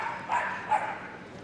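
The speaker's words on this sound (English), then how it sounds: "Noisy little Patterdale here." A Patterdale terrier gives two quick sharp barks at an indoor agility competition, close and fairly loud over a faint arena murmur.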